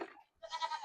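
A three-year-old Nigerian Dwarf dairy goat gives one short, fairly loud bleat close by, preceded by a brief lower vocal sound and a moment of quiet.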